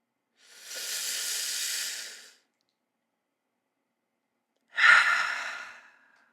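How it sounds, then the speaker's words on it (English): A person mimes smoking a cigarette, drawing one long breathy inhale and then letting out a shorter, forceful hissing exhale after a pause; both breaths are close and clear with silence between them. "Deep breath."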